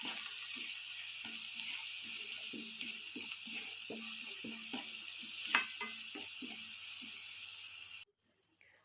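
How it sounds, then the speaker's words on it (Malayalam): Ginger garlic paste sautés in a pan for a potato roast, giving a steady hiss broken by scraping and clicking stirring strokes. The sizzle runs evenly, then stops abruptly near the end. "അതിലേക്ക് ഇഞ്ചി വെളുത്തുള്ളി പേസ്റ്റ് ഇട്ട് കൊടുത്തിട്ടുണ്ട് കേട്ടോ നന്നായിട്ടൊന്ന് വഴറ്റിയെടുക്കുക"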